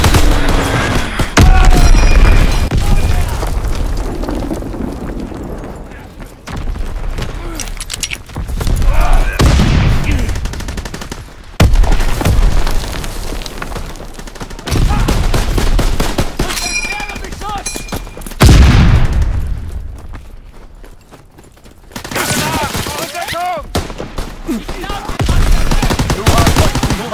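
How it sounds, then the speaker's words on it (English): Bomb explosions and heavy gunfire fill a Call of Duty WWII hardpoint match, with repeated loud booming blasts and chattering machine-gun bursts close by, separated by brief lulls. "Enemy bomb incoming. Get to cover."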